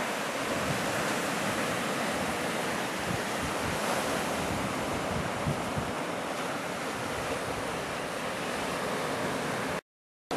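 Atlantic Ocean surf at El Faro in Rincón, Puerto Rico, where the Atlantic meets the Caribbean, roars as a continuous loud wash of breaking waves mixed with gusting wind buffeting the microphone, ending in a brief cut to silence.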